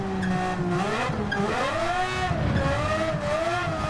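A race car in Gran Turismo 7 revs and accelerates continuously, its engine pitch rising and falling with throttle changes while the tires squeal, loud and steady throughout the clip with no talk.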